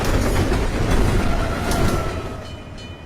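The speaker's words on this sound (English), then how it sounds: "A passenger train on fire." A passenger train on fire roars past in a movie scene, a loud, dense rumble with rhythmic clatter that fades slightly toward the end, with no voices.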